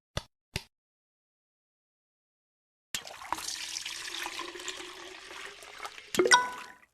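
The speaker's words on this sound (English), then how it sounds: "Pour the water into the stock pot." Water from a gallon container pours steadily into a stock pot full of bones, a few seconds of rushing flow after two brief knocks, ending in a louder splash.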